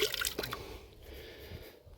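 Water drips from a squeezed tiling sponge while a garden patio is laid, a few quick light drips and squishes near the start, followed by a quiet, faintly trickling wet background.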